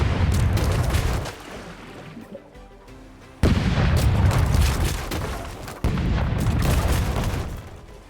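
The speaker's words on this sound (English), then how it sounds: "Let's hear those cannons roar." Ship cannons fire in the naval video game Rogue Waters, three heavy booms in a row, each followed by a long rumbling decay with splashy wash, loud and close.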